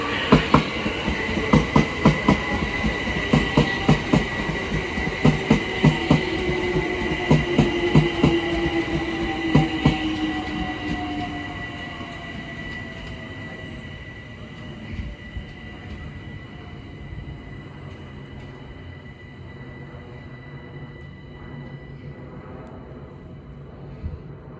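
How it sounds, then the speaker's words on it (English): A London Overground Class 378 electric train on the Brighton Main Line at Sydenham arrives and passes close by, with rhythmic wheel clicks over rail joints and a steady motor whine that fades away as the train departs. "Now arriving is the 1409 London Overground service from Hybri in Islington to Crystal Palace, being worked by a Class 378"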